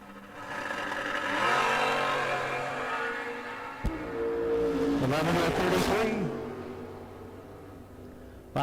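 Drag race cars, a '67 Camaro and a Monza, launch at a door car duel, engines roaring loud and rising through the run, with announcer-style talk and crowd noise layered over the continuous engine drone.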